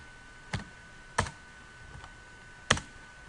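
A handful of sharp, isolated key clicks as a chmod command is entered on a computer keyboard, close and quiet with uneven pauses between strikes.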